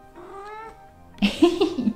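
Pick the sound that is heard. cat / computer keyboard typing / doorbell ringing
cat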